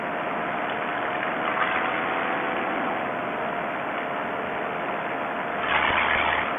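A paramotor engine runs steadily in flight, a continuous buzzing drone blended with rushing wind, holding even throughout and swelling slightly near the end.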